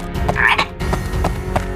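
Frogs croak in a short burst of repeated calls, set against a dense background of music or other sound that continues throughout.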